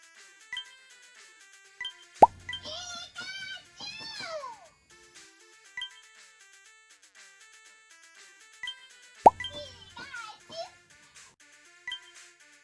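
Two short bursts of bright, chirpy Pikachu alarm sounds from Pokemon Sleep on a Pokemon GO Plus + device, with rising and falling bleeps, separated by a pause, over a faint musical background.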